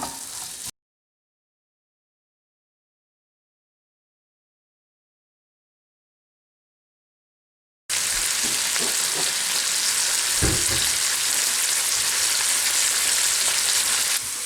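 Onions fry in a pan as they are stirred to caramelise, with a brief sizzle at the start, then a long silent gap, followed by a loud, continuous close sizzle broken by stirring scrapes.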